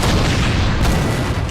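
Massed musket volleys and booming cannon fire from a Napoleonic battle in Napoleon: Total War, a loud, dense, continuous roar of overlapping blasts with no talk.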